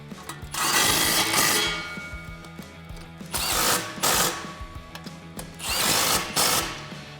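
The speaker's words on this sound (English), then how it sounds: "I am going to tighten these clamps down right now too, so you'll need a 15mm socket for that." Power tool with a 15mm socket tightening exhaust clamps on a 2018-2019 Mustang GT cat-back exhaust, three separate loud bursts of whirring and ratcheting, each about a second long, with quieter gaps between.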